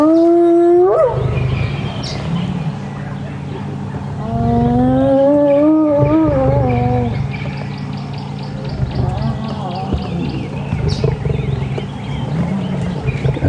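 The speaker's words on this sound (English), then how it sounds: "I don't know if you can hear over the call of the hyena" A hyena calls at Djuma Game Reserve with rising whooping cries, loud and fairly close, against a low rumbling background as lions stir nearby in the morning.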